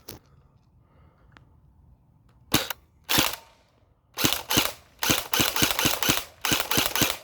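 An airsoft AK electric gun fires single semi-automatic shots, sharp close cracks first spaced apart and then in a quicker run of evenly timed shots.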